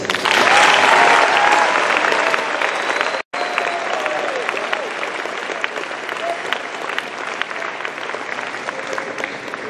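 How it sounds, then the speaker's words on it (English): A crowd at the 2014 Riverton High School graduation ceremony applauds those who supported the senior class, loud sustained clapping with a brief dropout, fading slightly as it continues. "I would like all members of the senior class to join me in a round of applause for those who have supported you throughout the years"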